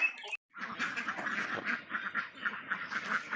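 Dense, continuous quacking from a crowd of laying ducks on a duck farm, loud and close, with a brief pause near the start.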